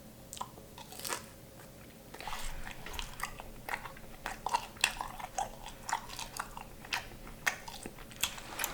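Someone eats a Little Caesars pepperoni Crazy Puff dipped in ranch, heard close up as a run of crunchy bites followed by steady, moist chewing, with no talk over it.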